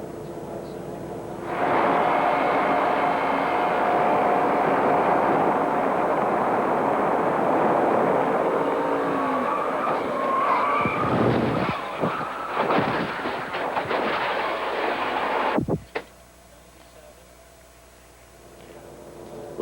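NASCAR stock cars roar past at Talladega in 1993 during Neil Bonnett's crash, a loud, sustained engine drone from a driver's perspective, with turbulent crashing noise near the end before it drops away sharply.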